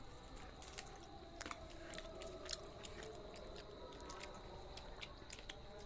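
Someone chews food while tasting it, with soft, wet mouth sounds and a few crisp bites repeating over several seconds, quiet and close, with no talk.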